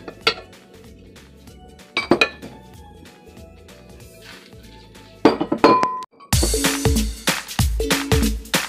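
Big plates being handled for a Taiwanese cabbage summer salad: scattered clinks of cutlery and dishes, then a louder run of ceramic knocks and scraping near the end, close and without talk.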